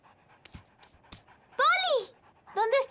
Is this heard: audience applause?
no